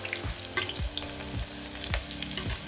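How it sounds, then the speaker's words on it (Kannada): Chopped onion dropped into hot ghee with fennel seeds for a kurma tempering, sizzling and frying steadily with a few stirring scrapes, close by and with no voices. "ಸೊ ಈರುಳ್ಳಿ ಹಾಕಿ ಒಗ್ಗರಣೆಗೆ 1 ಈರುಳ್ಳಿನ ನಾವು ಹೆಚ್ಚಿಟ್ಕೊಂಡಿದ್ವಲ್ಲ ಅದು ಕೂಡ ಹಾಕೋಣ"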